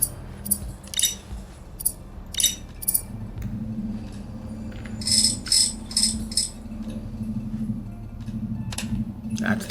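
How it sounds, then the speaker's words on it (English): Connector clicking into place in the video game Aethus, a few sharp metallic clicks and clinks scattered over a low steady hum, with a voice talking throughout. "That's the clicking sound."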